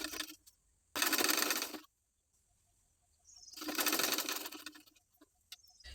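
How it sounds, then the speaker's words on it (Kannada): Two bursts of a domestic sewing machine stitching bias tape onto fabric, each lasting about a second with a dense whirring rattle. The bursts are separated by quiet pauses, close and fairly loud, with no talking. "ಈಗ ಈ ಕಾಜಾಪಟ್ಟಿ ಹಚ್ಚಿ ಸ್ಟಿಚ್ ಮಾಡ್ಕೊಳ್ಳೋಣ"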